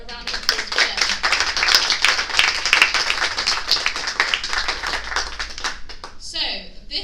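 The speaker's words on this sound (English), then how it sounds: "So can we have a little bit of a round of applause for them?" An audience gives a steady round of applause at an accessible travel gathering, dense close clapping that carries on for about six seconds before thinning out and fading at the end.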